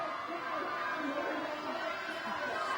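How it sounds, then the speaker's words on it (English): A small but loud crowd gathered outside Balmain Town Hall, producing a continuous wash of chatter and shouting, with a reporter's voice over the top. "there's a small contingent but a very loud one here outside Balmain Town Hall"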